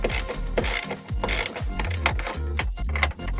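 A hand ratchet working bolts loose on the front suspension of a 2018 Volvo V40 D3, giving rapid, close, loud clicking bursts in quick repeated strokes.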